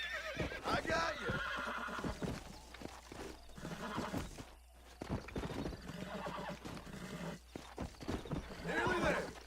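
A struggling horse in Red Dead Redemption on Xbox 360 whinnies again and again amid steady, heavy hoof clatter, loud and close, with brief lulls and a voice talking intermittently over it.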